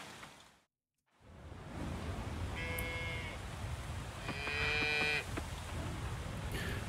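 Cow mooing in the Coral Island farming game, two drawn-out tonal moos in quick succession over a steady background hiss, with a brief silent gap near the start.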